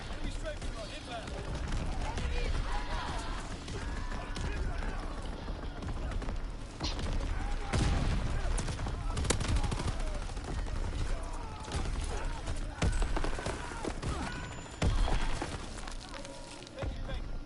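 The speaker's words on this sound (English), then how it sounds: "Incoming enemy artillery. Get to cover. Enemy strafing run inbound." Bursts of gunfire and distant artillery rumble roll through a WW2 video game battle, continuous and dense across the whole stretch, under game voice announcements.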